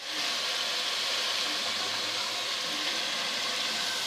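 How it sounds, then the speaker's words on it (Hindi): Water being poured into a pot of kadhi with kofta dumplings during cooking gives a steady, close hissing and splashing wash that holds evenly throughout, with no talking. "थोड़ा सा पानी शामिल करूँगी"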